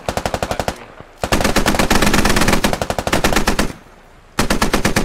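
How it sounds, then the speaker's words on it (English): Medium machine gun fire in the video game SquadOps, rapid loud automatic bursts with short pauses between them, close and alone. "Graham's got an MMG. He's looking to shoot at the bridge."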